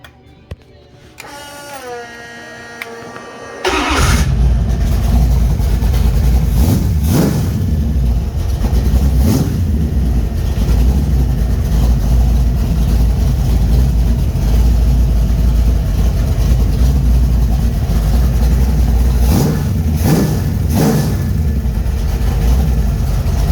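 A Mopar V8 with over-ported J heads and a Voodoo flat-tappet hydraulic cam cranks over after a moment of talk, catches and fires up, then idles loudly with a lumpy rhythm and several sharp throttle blips.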